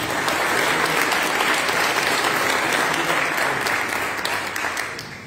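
A room full of people applauds for Andrés Felipe at a political session, dense sustained clapping at full strength that begins to thin toward the end.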